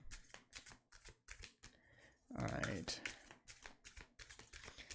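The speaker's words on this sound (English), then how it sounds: "we shuffled the Jesus out of these cards" A tarot card deck shuffled by hand gives repeated crisp riffling bursts in a quick rhythm, close and clear, with one louder, longer riffle in the middle and a brief spoken remark.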